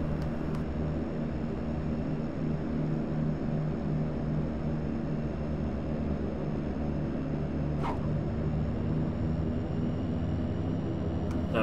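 An airplane in Flight Simulator X glides in to land with power cut and flaps out, giving a steady, broad engine-and-wind drone that holds level and close for the whole stretch, with two faint brief clicks partway through.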